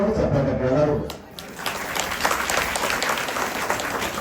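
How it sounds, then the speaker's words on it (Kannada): An audience claps at an open-air village gathering where a Hindu swami is giving a blessing discourse, the applause rising as a talking voice fades and then holding as a steady, fairly loud patter of many hands. "ಚಪ್ಪಾಳೆ ಎಲ್ಲರೂ"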